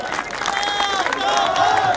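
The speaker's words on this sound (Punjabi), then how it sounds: "ਜ਼ੋਰਦਾਰ ਤਾੜੀਆਂ ਮਾਰ ਦਿਓ ਮਾਨ ਸਾਹਿਬ" A rally crowd at Mullanpur Garibdass applauding loudly for Bhagwant Mann, a dense wash of clapping with cheering voices mixed in, sustained across the whole stretch.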